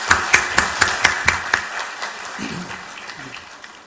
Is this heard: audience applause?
yes